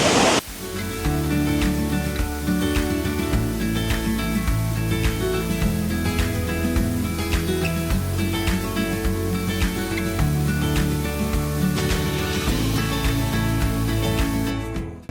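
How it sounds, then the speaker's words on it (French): Bridal Veil Falls on Manitoulin Island, Ontario, a waterfall rushing in a loud, continuous wash of spray that stays close and steady throughout, with no voices over it. "Bridal Veil Falls, donc la cascade qui est juste derrière nous."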